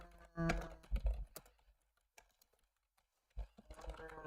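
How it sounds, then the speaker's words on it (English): Short bursts of computer keyboard typing as a quick note is entered, quiet and close, with irregular clusters of key clicks separated by pauses. "I'm just gonna type a tiny note."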